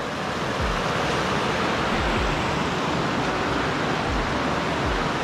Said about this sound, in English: There are so many little paths to come see this little creek or stream